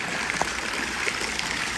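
Water runs and trickles steadily in a large hot tub with travertine coping and dual jets, at a soft distance. The flow is continuous with light bubbling and no voices.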